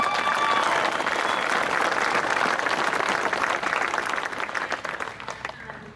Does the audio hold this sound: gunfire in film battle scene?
no